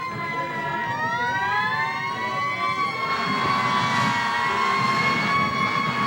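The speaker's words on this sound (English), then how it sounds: "And those fire engines are blaring with the sirens tonight." Fire engine sirens wail at a high school football game, several rising and falling tones overlapping loudly and continuously against crowd noise.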